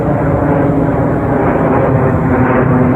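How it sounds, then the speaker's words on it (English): Airplane passing overhead on a cold, stormy morning, a loud, steady, broad engine roar that fills the whole moment without letup, heard without any talking. "It's funny when it's weather like this that you hear the sounds of the plane."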